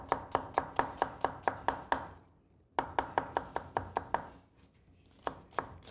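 A knife dices onion finely on a cutting board in quick, even strokes, two runs of crisp taps separated by a short pause, close and clear with no talking.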